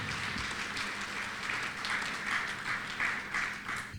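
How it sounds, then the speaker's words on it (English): Audience applause at an induction and awards ceremony, a steady wash of many hands clapping that stays even and moderately loud throughout, with no talk over it. "Give them a round of applause for that"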